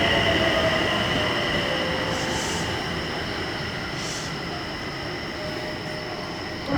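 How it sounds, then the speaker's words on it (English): A train pulls into a station in Japan with a steady rumble of wheels on rails, a faint high squeal and hum running throughout, fairly loud and continuous with no voices. "And a train just pulled in."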